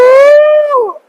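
A single long, mournful howl made by a human voice imitating a dog, holding steady and then sliding downward before fading out.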